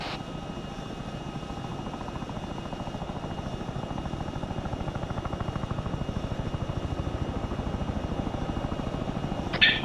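A helicopter in the Arma 3 video game launches from a helipad with a steady, rapid rotor thump and engine drone. The sound stays loud and constant throughout, with a short crackle at the very end.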